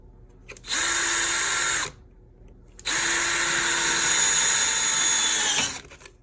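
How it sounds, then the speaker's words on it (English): A power drill drilling a hole in a wall whirs loudly in two bursts, a short one then a longer one, with a brief quiet pause between and the motor winding down at the end. "We're just gonna drill a hole here"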